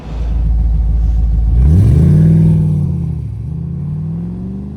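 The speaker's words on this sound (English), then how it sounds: "It's got such a fantastic exhaust note." An MGB GT V8 revs up close and loud, its engine rising to a peak and then easing back to a steady, rumbling exhaust note with no talking over it.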